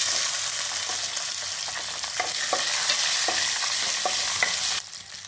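Shallots, green chili and curry leaves fry steadily in hot oil, a dense close sizzle broken by scattered scrapes and clicks of a stirring spoon against the pan, the hiss easing off abruptly near the end.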